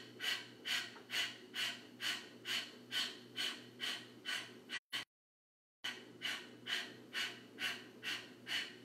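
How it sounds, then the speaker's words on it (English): Kapalabhati yoga breathing: a steady series of sharp, forceful nasal exhales at an even quick rhythm, close and clear, with a brief silent pause midway before the pumping resumes. "We'll take a round of Kapalabhati breathing here."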